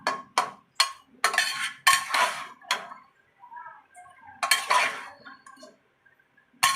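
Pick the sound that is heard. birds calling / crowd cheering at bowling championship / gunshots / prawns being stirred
prawns being stirred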